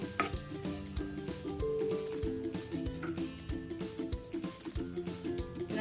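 Cumin seeds and asafoetida sizzling in hot oil in a pan for spinach paneer khichdi, a steady crackling fry with rhythmic clinks of a spoon against the pan.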